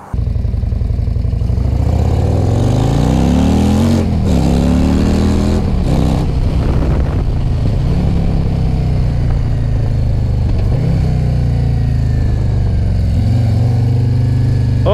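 A 2021 Harley-Davidson Road Glide Special is ridden, its engine loud and close throughout, revving up and shifting repeatedly with a rising and falling rumble and heavy wind buffeting.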